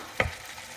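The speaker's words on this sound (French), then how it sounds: "on va rajouter l'équivalent d'un oignon émincé et un petit bouquet de persil et coriandre. Et on va laisser revenir tout ça." Sliced onion with parsley and coriander sautéing in a pan for Moroccan stuffed batbout: a quiet, steady sizzle with one brief stirring clatter near the start.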